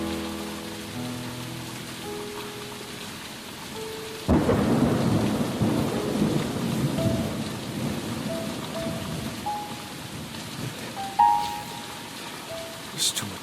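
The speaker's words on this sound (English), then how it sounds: "There's too much rain. I can't see." Heavy rain pours steadily while a sudden loud thunder crack breaks in, followed by rolling rumble and continued downpour, with faint tonal music early on and no speech.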